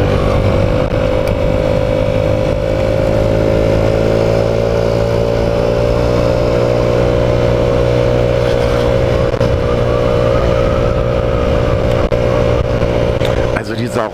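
A Rex RS 700 scooter being ridden gives a loud, steady engine drone with a low hum and wind rush that run unbroken throughout, ending in a brief clatter.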